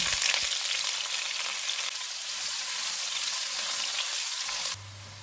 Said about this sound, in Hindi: एक प्याज डालेंगे, इसको गोल्डन फ्राई करेंगे।